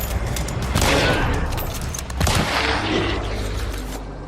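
Gunfire in Hunt: Showdown: two loud close shots with sharp cracks about a second apart, each trailing into a rumbling echo, with no talk over them.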